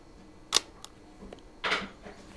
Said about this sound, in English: Nikon came out with the first motor drive for a Japanese camera.